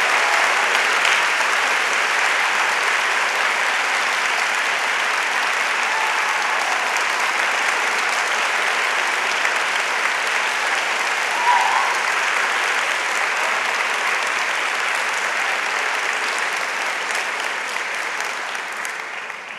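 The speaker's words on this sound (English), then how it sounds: "Please join me in a round of applause for Otelia Cromwell." Steady, sustained applause from a keynote audience at a birthday tribute event, a dense wash of clapping that holds level for about twenty seconds before tapering slightly at the end.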